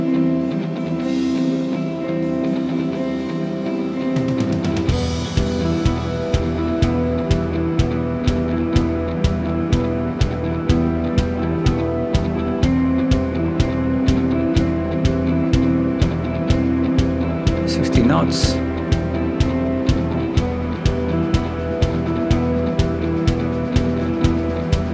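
A Cessna Caravan single turboprop, simulated in Microsoft Flight Simulator 2020, spools up to takeoff power, its steady droning hum rising after a quiet start and holding strong with a rhythmic pulsing beat throughout.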